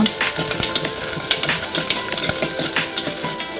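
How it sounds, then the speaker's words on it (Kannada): Onions frying in oil with neem leaves in a clay pot, a dense steady sizzle broken by frequent scraping and clinking stirs, close and loud throughout. "ನಂತರ ಈರುಳ್ಳಿಯನ್ನು ಫ್ರೈ ಮಾಡುವ"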